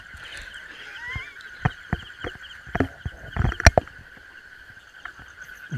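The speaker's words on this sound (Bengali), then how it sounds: "কিচিরমিচির শব্দ, ব্যাঙের ডাক," Frogs croak at night in a dark outdoor spot: scattered sharp croaks and clicks, some close and loud, sound over a constant high chirping of insects, with no voices.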